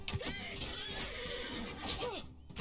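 A horse neighs in Mount & Blade II: Bannerlord, giving a few whinnying calls over battle noise and hoof clatter, while someone speaks underneath.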